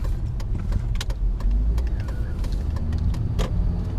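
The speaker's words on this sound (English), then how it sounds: "I am in a vehicle and driving it. I'm in my own car" Steady low road rumble inside a car being driven, with faint clicks and rattles over the constant cabin drone.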